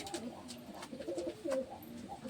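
Fancy pigeons at a pigeon show give a few soft, low, murmuring coos in quick succession, faint and close.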